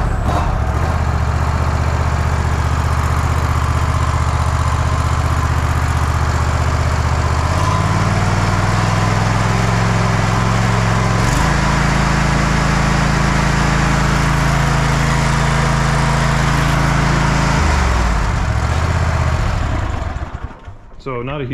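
Kohler engine on an Ariens Ikon XD 52-inch zero-turn mower running loud and close, a steady low drone that steps up in pitch as the throttle changes, then cuts off near the end.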